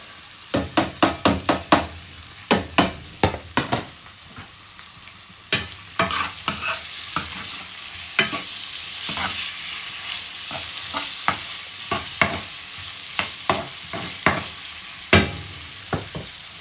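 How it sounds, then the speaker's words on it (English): Saltfish frying and being stirred in a pan for Jamaican ackee and saltfish, with a steady sizzle broken by repeated sharp utensil scrapes and knocks against the pan, loud and close, no talking. "time to put in my saltfish."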